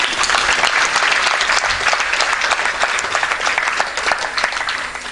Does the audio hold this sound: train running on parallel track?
no